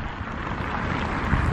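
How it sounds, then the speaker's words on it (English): Strong wind in Iceland buffets the microphone in a continuous roaring rush that swells slightly toward the end, with no voices. "Very windy."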